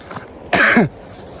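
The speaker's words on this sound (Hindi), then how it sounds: "खांसी रुकने का नाम ही नहीं ले रही।" A man with a persistent cough in Neelam Valley gives a single short, close cough against quiet surroundings.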